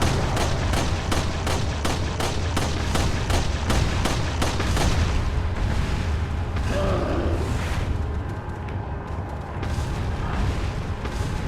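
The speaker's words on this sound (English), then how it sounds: "Actually, I'm gonna use the handgun." Rapid handgun shots in Resident Evil 4, loud and dense, the first half packed with sharp repeated reports over constant game noise and booming, then easing into a rumbling, mechanical game soundscape.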